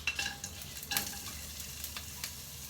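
Ginger and other aromatics sizzle in a hot pan for Shanghai eggplant with minced pork while a wooden spatula stirs them, giving a quiet crackle with a few sharper scraping clicks.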